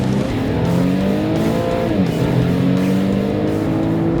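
Infiniti Q50 hybrid accelerating hard in a performance test, engine note rising in layered harmonics with a brief drop at a gear change before climbing again, loud and continuous from inside the car.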